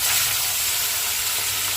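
Giant river prawns fry in a pan, giving a loud, steady, close sizzle with constant hissing crackle that runs unbroken throughout.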